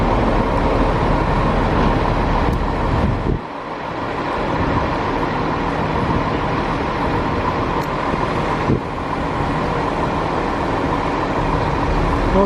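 Train rumble at Belgrade station on a service from Sofia, a loud steady low roar of wheels and engine that holds for the whole stretch, with a brief dip partway through.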